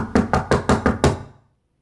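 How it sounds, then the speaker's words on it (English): Six quick, firm knocks on a door in an even rhythm, close and distinct, fading into silence. "with Stormy standing there, I had to knock"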